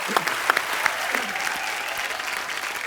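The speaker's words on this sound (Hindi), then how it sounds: "इस बात के लिए जोरदार तालियां।" A television studio audience breaks into a steady round of applause, dense and moderately loud, with a few sharper claps standing out near the start.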